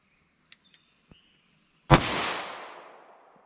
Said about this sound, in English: I'm just going to do 3 rounds so that I have enough rounds to complete this whole test